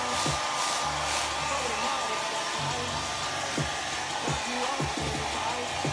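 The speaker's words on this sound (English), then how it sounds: "for about 15 minutes I am going to put a blow dryer to it so that way it can heat up" A blow dryer runs close and continuously, heating hair coated in a coconut milk hair treatment, giving a steady loud whooshing hum with faint intermittent knocks beneath it.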